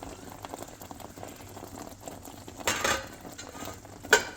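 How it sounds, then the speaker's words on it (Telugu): A curry of tomato puree and onion paste for egg curry bubbles in a pot, making a soft, continuous simmering patter. A couple of louder clinks and a short splash break in near the end, with no speech. "మంచి ఉడుకుతోంది"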